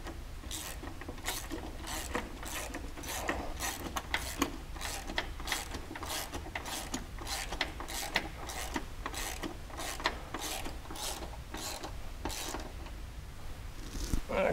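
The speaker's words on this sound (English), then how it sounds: "that one you do need to get a wrench on. You need a 13mm wrench." 13mm ratchet wrench loosening a floor board mount bolt on a 2019 Polaris Ranger 1000 Crew, a steady run of quick ratcheting clicks repeated evenly and close up, with no talking.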